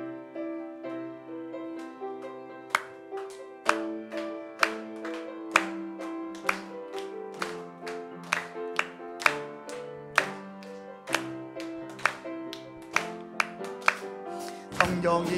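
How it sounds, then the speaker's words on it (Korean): A church congregation claps along on the beat during Sunday worship, with sharp, evenly spaced claps running steadily over sustained live worship music. "우리 함께 힘차게 박수하며 찬양 올려드립니다"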